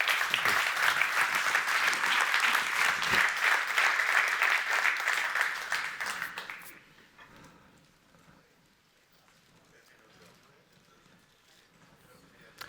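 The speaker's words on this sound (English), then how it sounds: "round of applause, please" An audience at a conference stage applauds a finished panel discussion with dense, loud clapping for about six seconds, then the clapping fades into a quiet room murmur.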